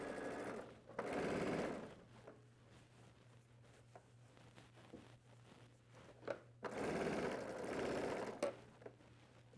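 A sewing machine stitches a men's dress shirt in two steady bursts, one at the start and one near the end, with quiet handling between them and no talking.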